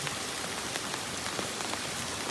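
Heavy rain pours down in a village, a dense, unbroken hiss of drops striking surfaces close by, steady and loud throughout with no voices.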